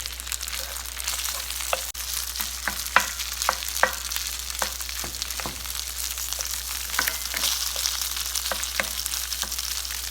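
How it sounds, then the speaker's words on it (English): Rice frying in a very hot pan while it crisps, a constant close sizzle with repeated sharp crackles and pops and a stirring scrape, no one speaking. "you can hear it sizzling, that's so great."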